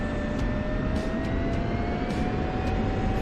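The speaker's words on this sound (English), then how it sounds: "you see all these planes buzzing around" Aircraft engines drone steadily in a flight simulator game over Nevada mountains, a continuous loud hum with faint tonal whine and several planes buzzing past, no talk.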